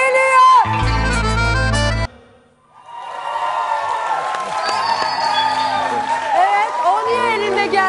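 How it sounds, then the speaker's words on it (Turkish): A studio audience at a Turkish holiday entertainment show applauds and cheers, loud and sustained, rising right after a burst of music ends, with voices over the crowd noise. "Şimdi alkışlar."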